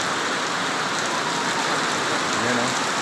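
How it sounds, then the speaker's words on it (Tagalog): Heavy rain pours down in a steady, dense hiss that fills the whole clip without a break, loud and close. "Oh, ang lakas ng ulan."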